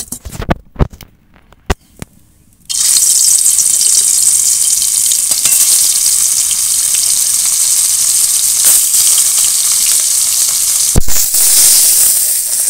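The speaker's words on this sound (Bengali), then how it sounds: "এবার বাকি মাছগুলো ভেজে নেব।" Large shankhachur fish pieces frying in hot oil in a kadai: a few clatters first, then a sudden loud, continuous sizzle that carries on steadily to the end, no talk.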